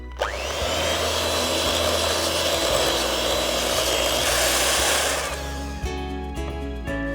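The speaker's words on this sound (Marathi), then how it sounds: "हे पुन्हा आपण बीटरने मिक्स करूया" An electric beater whirs loudly and steadily through cupcake batter, a sustained high motor drone that runs for about five seconds then cuts off, leaving a few faint knocks and clinks of the bowl.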